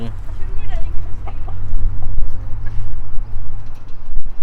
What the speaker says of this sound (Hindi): डरती बहुत हैं यार ये मुर्गियाँ